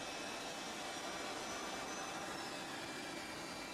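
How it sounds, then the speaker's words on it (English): An airliner's jet engine spins up for start, a steady, faint whine and roar that holds even throughout with no speech. "all doors and hatches are closed and you're clear to start engine 2"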